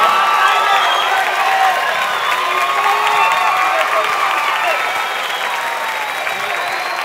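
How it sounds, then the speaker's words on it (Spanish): An audience at a school's 45th-anniversary concert applauds the teachers with dense, sustained clapping and some cheering. The applause stays loud throughout, easing slightly toward the end. "quiero pedirles un aplauso para estos maestros"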